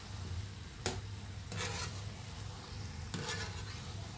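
Gulab jamun frying in oil, a quiet steady sizzle with a few brief scraping strokes of a spoon through the pan, no talking.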